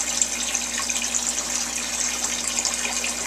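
Air-pump aeration bubbling in a hydroponic reservoir, near an aquarium filter and heater, produces a steady, dense hiss of fizzing water that never lets up, with no voices.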